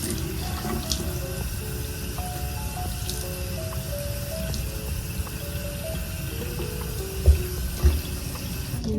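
Tap water runs steadily into a sink to soak a detached wig head, a continuous close splashing flow with a couple of soft thumps near the end.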